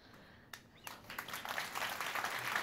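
Applause from an award celebration audience starts with a few scattered claps and swells into a fuller, denser clapping that grows louder toward the end.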